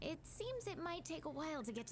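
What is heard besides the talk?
No everyday noises stand out.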